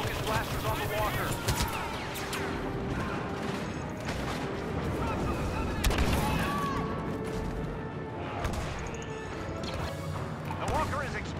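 Blaster fire hammers a walker during a Star Wars Battlefront multiplayer battle, a dense, constant barrage of shots, crashes and impacts running under battlefield voices.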